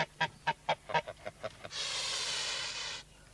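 Geese of the Roman breed honking near, a run of about nine sharp, separate honks followed by one long continuous hiss-like call, with no talk.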